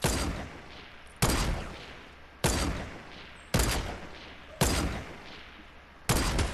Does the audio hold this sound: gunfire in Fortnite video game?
yes